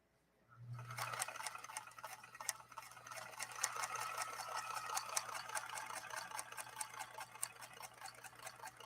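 A Singer 222K sewing machine runs a row of test lock stitches, starting with a low hum and then settling into a fast, steady, even needle clatter that continues without pause.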